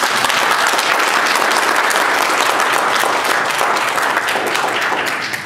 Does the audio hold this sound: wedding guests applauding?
yes